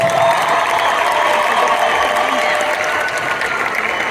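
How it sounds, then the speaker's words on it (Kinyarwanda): Sustained applause from a large concert audience, loud and steady throughout with a few cheers mixed into the dense clapping. "mukuriye amashyi menshi cyane"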